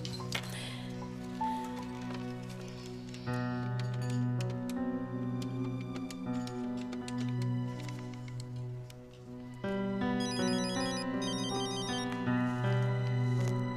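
A telephone rings with a melodic electronic tone as a call is placed in an Arabic TV drama, repeating at a moderate level alongside soft background music.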